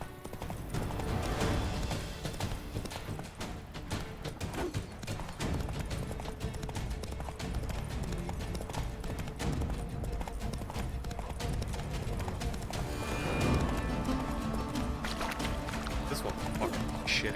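Hooves clip-clop in a fast, steady gallop as the horse Roach runs in the video game Witcher 3, with game music and ambience beneath the rhythm.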